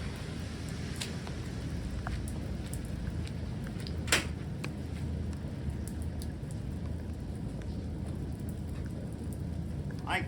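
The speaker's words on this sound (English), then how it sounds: "It's kind of raining out" Rain falling outdoors at night around a 1981 El Camino: a steady, dense hiss of drops with occasional sharper ticks and one louder tap standing out.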